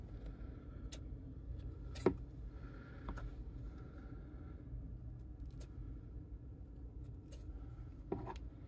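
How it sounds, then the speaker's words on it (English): Scissors trimming excess thread from a hand-sewn fabric basket, with a few faint, sharp snips spread out over quiet room rumble. "So then just cut off your excess strings."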